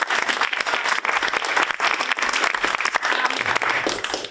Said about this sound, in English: Can we just get another round of applause?